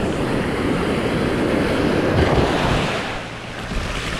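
Ocean waves break on a beach in a continuous loud roar of surf, with heavy wind buffeting the microphone and the wash easing slightly near the end, with no talking.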